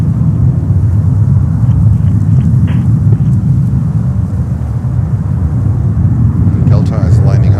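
A Delta Boeing 767-400 in Breast Cancer Research Foundation livery lines up on the runway at JFK, giving a steady, loud low rumble of jet engines with no change in level.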